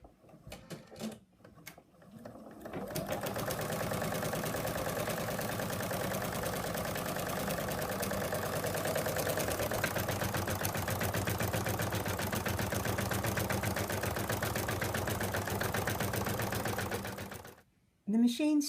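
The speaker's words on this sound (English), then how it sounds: "The machine stitched the outline" An embroidery machine runs steadily as it stitches an outline onto stabilizer held in the hoop, a constant whirring mechanical hum lasting most of the stretch after a few brief clicks, then stopping abruptly near the end.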